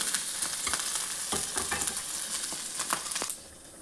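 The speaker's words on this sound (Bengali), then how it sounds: "এগুলো একটু লালচে করে ভাজবো" Ginger and green chillies sizzle and fry in a hot pan for a spinach fritter dish, a steady crackling hiss with small stirring clicks that drops away sharply near the end.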